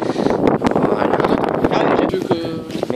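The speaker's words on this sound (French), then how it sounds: "Je cache le vent." Strong wind buffets an outdoor microphone in gusty bursts of low rumble and crackle, with people talking in French underneath throughout.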